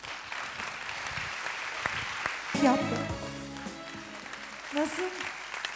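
A studio audience on a Turkish television show breaks into applause, a broad clatter of clapping running throughout under talking and a brief singing voice.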